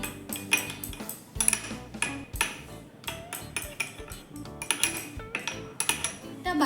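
Soy sauce and chili sauce stirred together in a pan for chili chicken, a busy run of metallic clinks and scrapes of a utensil against cookware, close and irregular.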